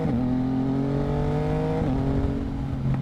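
A Yamaha MT-09 motorcycle accelerates hard, its loud engine tone climbing steadily and then dropping sharply at a quick-shifter gear change before climbing again, heard close up with no talk.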